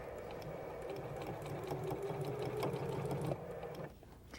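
A sewing machine runs a steady straight stitch through bandana cloth, a close, even mechanical whir that carries on for a few seconds and then stops.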